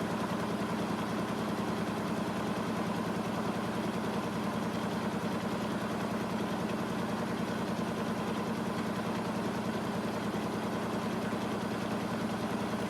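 A Blomberg washing machine spins at 600 RPM, giving off a steady, unbroken mechanical hum and whir with constant low vibration throughout and no voices.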